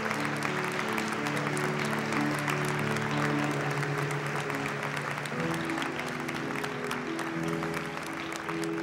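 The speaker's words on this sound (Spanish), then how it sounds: "Un aplauso al Señor." A church congregation applauds during a Christmas sermon, a continuous wash of clapping over sustained music tones that fills the whole stretch evenly.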